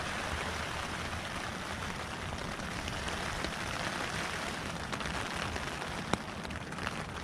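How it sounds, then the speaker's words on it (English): Heavy rain pattering on a small one-man tent in winter woods during a storm, a dense continuous hiss of drops, close and steady, with a few sharper taps. "just sat here listening to the sound of the rain on the tent"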